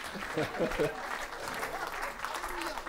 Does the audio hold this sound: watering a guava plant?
no